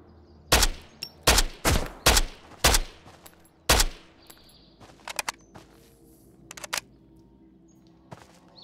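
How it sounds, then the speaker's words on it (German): Gunfire in the survival shooter Road to Vostok: six loud, close shots in a quick, uneven burst, then quieter clicks and rattles over faint background ambience. "Schuss."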